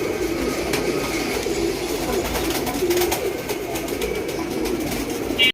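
Golla pigeons coo softly in a low, murmuring drone amid steady background noise, with no talking.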